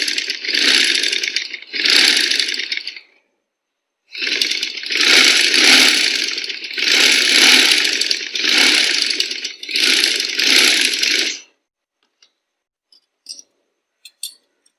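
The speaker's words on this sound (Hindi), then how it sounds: "अब हमने यहाँ से मशीन को रख के स्टार्ट किया। अब इस तरीके से उस लगे हुए निशान पर सिलाई लगानी है।" A sewing machine stitches along a marked line on a tich-button sleeve, running in five loud, steady bursts of a few seconds each with brief pauses between them, then stopping.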